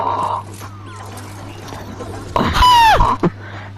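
A video-game chicken gives a few soft clucks, then a louder rising squawk partway through, over a steady low background hum.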